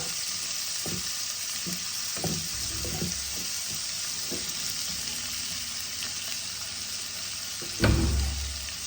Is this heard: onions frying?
yes